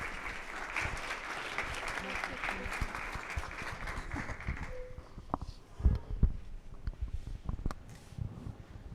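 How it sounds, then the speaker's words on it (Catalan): Audience applause greets presented rural women artists at an exhibition presentation, a dense wash of clapping that fades after a few seconds into scattered claps, shuffling and murmuring. "Donem l'aplaudiment a Anna Arqués, Sara Misselbrook i Marta Vidal."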